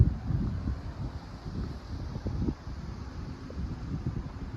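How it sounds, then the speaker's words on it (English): Low, uneven wind at an ocean lookout buffeting and rumbling against the microphone in gusts, moderately loud, with no voices. "You can tell how windy it is here right now"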